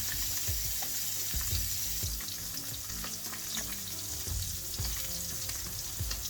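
Masala-coated mackerel fries in a pan for a South Indian Kerala fish fry, giving a dense, steady sizzle with crackling pops, close and fairly loud with no talking.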